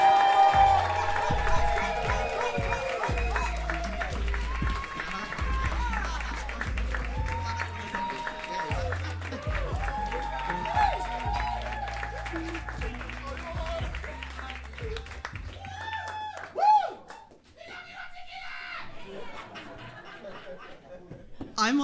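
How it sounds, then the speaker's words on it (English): An audience at a live headline performance applauds and cheers for the featured performer, a dense burst of clapping and crowd noise that fades toward the end, with a voice speaking over it. "please give a massive, massive round of applause for our amazing feature, Articulit!"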